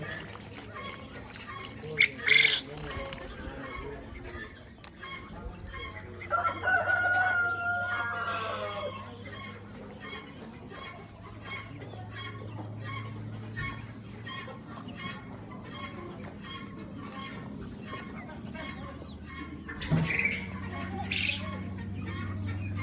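Chickens and guinea fowl call at a poultry auction, with scattered crowing and clucking over a busy background, some calls close and loud, others distant, while people talk nearby.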